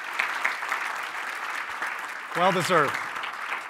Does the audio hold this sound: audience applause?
yes